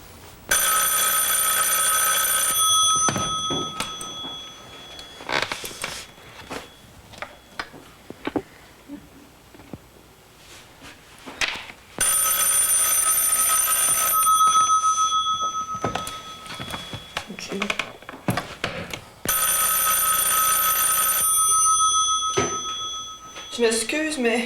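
An old telephone ringing in long repeated bursts, loud and close, three rings separated by stretches of people talking and rustling.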